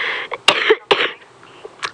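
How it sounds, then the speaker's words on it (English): A person coughs close by in a few sharp, raspy bursts, with throat clearing between them and quieter breaths after. "I'm going to take a sip of water quickly and try and contain the coughs."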